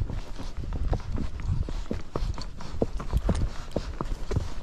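A Tennessee Walking Horse's hooves clip-clop in a steady walking rhythm on hard ground, close by, with no talking.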